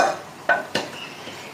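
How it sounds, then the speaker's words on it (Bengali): A spoon stirs okra masala, Marwadi-style bhindi, in a pan, giving a few close metallic clinks and scrapes over a faint background hiss. "ভালো করে নাড়িয়ে দিতে হবে ভেন্ডিগুলো দিয়ে"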